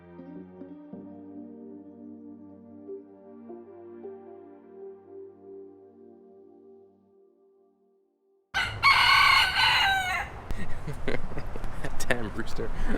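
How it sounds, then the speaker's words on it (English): A rooster crows loudly and close by in Key Largo, Florida, its harsh call repeating over outdoor noise after a stretch of quieter sound. "Damn rooster."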